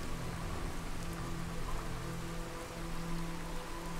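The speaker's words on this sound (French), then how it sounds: "On va juste attendre que la pluie passe." Steady rain falls in Skyrim, a dense, even hiss of drops on surfaces that keeps going without a break, with no voices over it.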